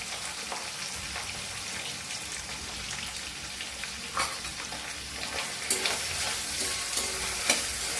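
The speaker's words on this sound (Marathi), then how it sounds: "कांदा चांगला परतून घ्यायचा।" Onion sautés in a pan for a taro-root vegetable dish, with a steady close sizzle and occasional scraping stirs throughout and no talking.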